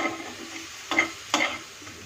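Spice masala for prawn pulao sizzles softly in a pan while being stirred, with two sharper scrapes of the spoon standing out above the low, steady frying hiss.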